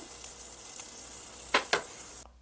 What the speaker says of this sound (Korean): 소고기는 뭉치지 않게 볶아주시고요